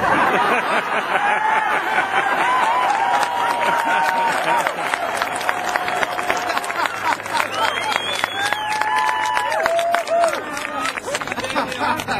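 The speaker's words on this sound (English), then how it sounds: "having me applauded by a group of Canadians wearing red" Audience of Canadians dressed in red applauding, a dense, continuous patter of clapping with some laughter, steady and fairly close, while a voice speaks over the crowd.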